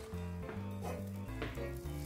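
Steady sizzling of beef steak frying in a hot pan, continuous crackle close up over a low humming background, no voices.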